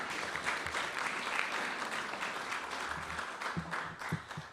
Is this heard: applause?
yes